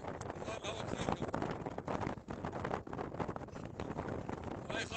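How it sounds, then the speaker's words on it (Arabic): Strong wind buffets the microphone at Karak castle, a continuous rough broadband roar with gusting swells, while a voice is partly audible beneath it. "والله في هواء قوي، والله الهواء كثير"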